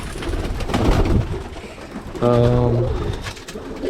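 A Birmingham Roller pigeon gives a clear, throaty coo close by, following a few seconds of mixed background sounds.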